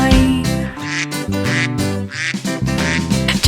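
Mother duck in a Hindi nursery rhyme about five little ducks: loud sung quacks repeated four times over bouncy music, the quacking voiced by a singer imitating a duck.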